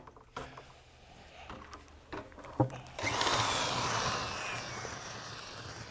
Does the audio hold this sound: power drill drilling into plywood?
yes